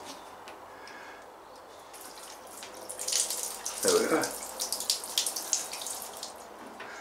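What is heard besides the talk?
water running from a tap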